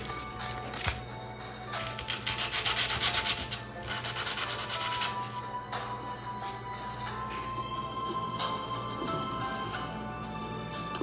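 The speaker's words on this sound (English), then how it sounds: "Let me sand it down a little bit." Sandpaper rubs continuously against wood up close, a steady, even rasping scrape that carries on for the whole stretch with no pauses and no talking.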